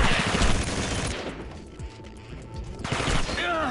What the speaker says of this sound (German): So viel feindliches Feuer!